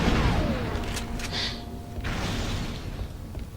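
An explosive charge detonates in the Star Wars Republic Commando game, a loud broadband boom at the start that rumbles on amid mechanical game noise and brief bright bursts, tailing off without any speech.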